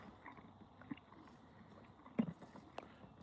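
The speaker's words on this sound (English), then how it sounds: "I heard you crunch that one." A retired racehorse crunches and chews a treat, giving a faint, close, soft chewing texture with one sharper crunch partway through, all at low volume with no talking.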